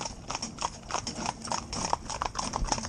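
Hooves of young, green ponies harnessed as a mixed four-in-hand clip-clop steadily on a hard surface in a quick, overlapping rhythm, close and clear.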